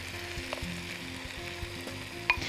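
Minced meat sautés in a hot pan for lasagna with kofta, giving a steady, close crackling sizzle dotted with light knocks and a brief sharper clatter of stirring near the end.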